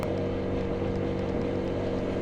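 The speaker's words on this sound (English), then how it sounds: "I can hear the chain and the tyre spinning because the exhaust" A KTM Duke 125 motorcycle fitted with a quiet aftermarket exhaust rolls along, its chain and spinning tyre whirring over a steady low engine drone that holds constant throughout.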